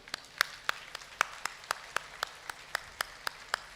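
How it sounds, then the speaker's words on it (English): At a college Achievers Day, a small, fairly quiet group claps in a slow, even rhythm, each distinct clap landing about every quarter second in a sparse, roomy hall. "Why don't you give a big hand of applause to all of you?"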